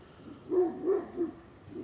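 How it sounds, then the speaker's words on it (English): Barking from a guard dog, with two dogs set off at once: three low, moderately loud barks spaced about a third of a second apart, then a fourth starting at the end, with no talking. "What are you barking at?"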